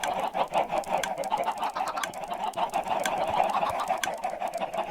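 Chickens on a video-game farm with a clock circuit and egg hopper cluck continuously, several birds overlapping in a dense, steady chatter with no voices over it.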